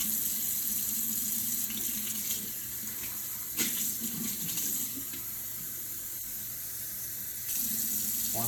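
A kitchen tap runs a steady stream of lukewarm water for making bread dough, a continuous close hiss and splash with brief shifts in flow, no talking.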